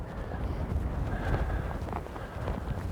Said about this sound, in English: Well, it's quite windy.